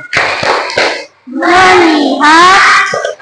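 Schoolchildren in an Islamic religious education class do the tepuk fokus clapping chant, with quick clustered claps followed by sung, chanted voices, loud and close.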